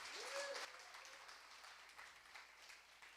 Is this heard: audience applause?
yes